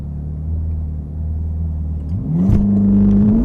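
A Ferrari Roma at full throttle on an empty desert road: a steady engine rumble that surges into a rising, louder rev as the car accelerates hard.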